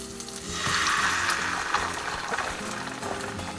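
Green pepper hits hot olive oil with garlic already browned over medium heat, and the frying bursts into a loud, close sizzle that swells quickly and then hisses on steadily.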